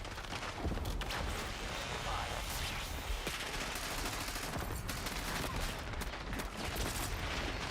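Rapid, overlapping gunfire bursts from a Call of Duty Warzone (Black Ops 6) match fill the whole stretch, loud and busy with a thick layer of battle noise.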